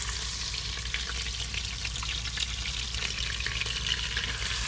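Thick steaks sizzling in a hot pan inside a truck, a continuous close hiss of frying with small pops, steady and moderately loud, no voices.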